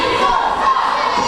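Wrestling event crowd roaring together in hostile jeers at the villains, a loud, sustained wall of massed shouting and booing filling the arena with no break.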